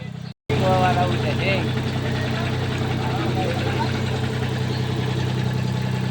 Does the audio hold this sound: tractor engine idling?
yes